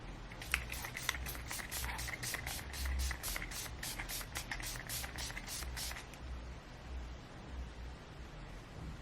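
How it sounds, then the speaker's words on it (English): A Rimmel Fix and Go makeup setting spray bottle is pumped rapidly, about a dozen quick short hisses in a steady rhythm, close by, then quiet room tone. "So it's just a setting spray for my makeup."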